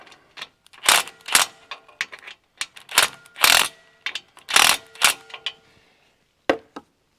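An impact driver snugs three hand-tightened screws, giving short bursts of rapid ratcheting hammering separated by pauses, close and loud, in a workshop setting.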